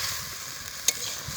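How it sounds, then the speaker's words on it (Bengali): Spice masala fries with potatoes in a pan, giving a soft, even sizzle with one brief scrape of a spoon partway through. "মশলাটাকে আমরা একটু কষিয়ে নেবো আলুর সাথে"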